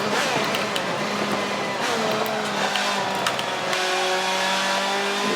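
A Ferrari race car on a test lap, its engine droning steadily at a distance with a smooth rising and falling whine and faint tire noise, continuous and fairly even in level with no voices.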